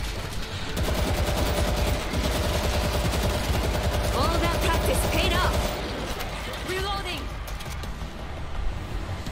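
Rapid automatic gunfire from the video game World War Z rattles in dense bursts over a busy game soundtrack, with voices talking over the action.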